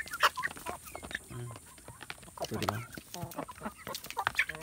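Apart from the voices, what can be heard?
Talisayo breed chicken clucking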